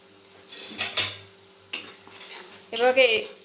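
Hilsa mustard masala with green chilies, turmeric and salt is sautéed in a pan. Bursts of sizzling and scraping stirs come in uneven clusters with short quiet gaps, close and fairly loud.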